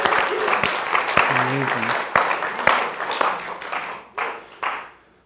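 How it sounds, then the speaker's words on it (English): A church congregation applauds the worship band in a full round of clapping that runs steadily, then tapers off into scattered claps as a voice speaks briefly over it. "Can we give the worship band a round of applause?"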